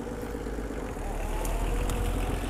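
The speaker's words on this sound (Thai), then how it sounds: "มาทดสอบขับดูได้นะครับสำหรับใครที่อยากลองขับรถไถคูโบต้าคันนี้เนี่ย" A Kubota M4500 tractor engine runs with a steady low diesel rumble, getting slightly louder partway through.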